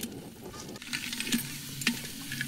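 Crabs tossed into a hot clay pot of sizzling spice tempering, cooked the tribal way with stones; steady close frying hiss with stirring scrapes and a couple of sharp clinks against the pot.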